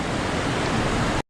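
Creek water flows in a steady, dense broadband rush, loud and close, with no voices, before cutting off abruptly.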